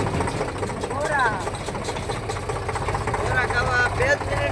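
A tractor engine idles and runs steadily near a farm field by a hill, a continuous mid-pitched rumble with voices talking over it.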